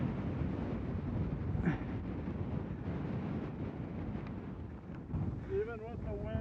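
Wind rumbles and buffets the microphone during a mountain bike ride on desert trails, a dense low roar throughout, with a voice briefly speaking near the end.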